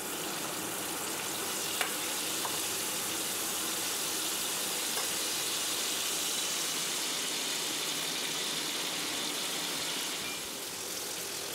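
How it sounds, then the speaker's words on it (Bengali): A leftover spice mixture fries hard in a pan over a high gas flame, giving a loud, steady sizzle with occasional stirring clicks, continuous before easing slightly near the end. "এইবারে গ্যাসের ফ্লেমটাকে বাড়িয়ে নিয়ে এটাকে একটু কড়া করে ভেজে আমি নামাবো।"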